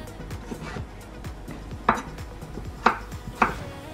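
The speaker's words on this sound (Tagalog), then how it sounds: "Hiwain natin yung patatas ng cubes." Knife chopping potatoes into cubes for a soup, a run of crisp, close cuts against a board with three sharper, louder strikes standing out near the end, no talking.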